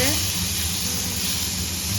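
Eggplant sizzling and frying in a hot pan, a steady broadband hiss throughout, with a voice talking over it.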